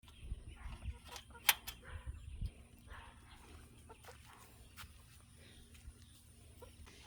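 Chickens, including Turkens, inside a large backyard coop, giving soft clucks and low murmurs alongside shuffling and a few knocks, fairly quiet and close with sparse chirps.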